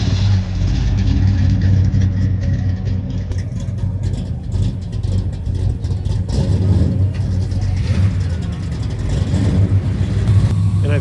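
A 1967 Oldsmobile's engine runs steadily at an Oldsmobile club car show, with a low rumble and small swells of revving. Crowd chatter and voices carry over it.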